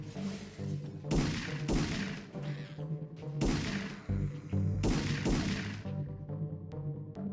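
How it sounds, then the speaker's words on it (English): Gunfire from the video game Parasite Eve II comes in repeated loud bursts with booming thuds and echoing tails, alternating with brief lulls. "I just got a bunch of gunshots."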